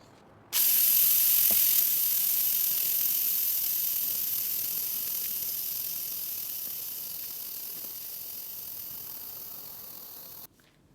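An Instant Pot pressure cooker venting steam, releasing one loud, steady hiss that starts abruptly, holds for about ten seconds while slowly fading, then cuts off.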